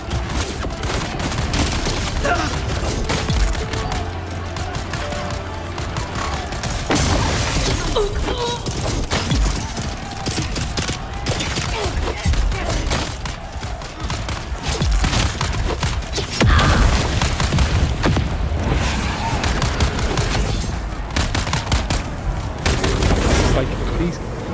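Gunfire from the video game Dune: Awakening, dense bursts and volleys of shots with booming impacts running steadily throughout, fairly loud, with a voice talking over parts of it.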